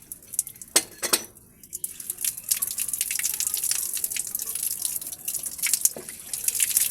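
Water drains from a tank after a pipe union is opened, scattered drips and splashes falling and trickling steadily, close and moderately loud, with a few sharp metallic clinks early on.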